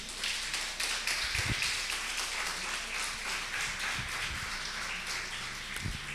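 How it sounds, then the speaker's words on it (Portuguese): Church congregation applauding during an evening worship service, a steady dense wash of clapping that fills the room for the whole stretch, fairly distant with a few louder low thumps. "Pode aplaudir o Senhor mais uma vez"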